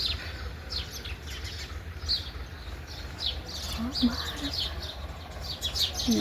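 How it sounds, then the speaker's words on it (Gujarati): Sparrows chirp in quick, scattered high tweets around a rooftop terrace at sunrise, moderately near, continuing steadily over a low background hum. "ચકલાનો તો કિલો વિલો છે"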